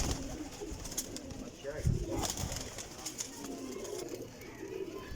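Flying pigeons of a golden teddy cross breed coo softly and faintly against steady background noise, with a few brief louder bumps.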